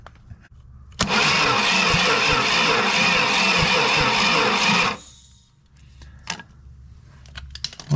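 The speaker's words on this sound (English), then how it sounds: "So we have a cranking 400 that seems to be building up compression" A forgotten big block 400 engine cranks loudly and steadily on a starter jumped with jumper cables for about four seconds, then stops, leaving a quiet workshop with small clicks and knocks.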